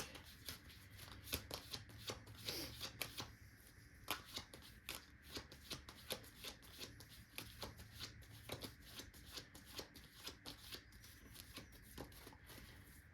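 A deck of tarot cards being shuffled by hand, a continuous run of quick riffling flutters and soft card slaps, close and fairly quiet, with no talking.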